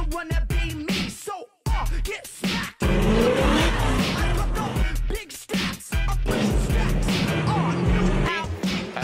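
Nissan S-chassis drift car sliding at a drift event, tires squealing and skidding loudly with engine roar in long sustained bursts, briefly cutting out between passes, close and intense.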